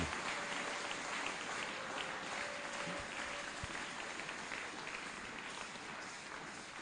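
A church congregation applauding together: a steady, dense wash of clapping at moderate distance that holds evenly throughout with no speech over it.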